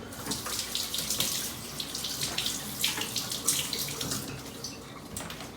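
Tap water runs steadily over freshly picked garden garlic scapes in a sink, a close, continuous splashing rush with small shifts as the stalks move under the stream.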